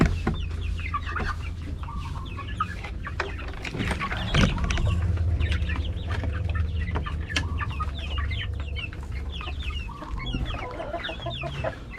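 Free-range Rhode Island Red chickens cluck steadily in a farmyard, many birds overlapping at moderate distance with a continuous low rumble of background noise underneath.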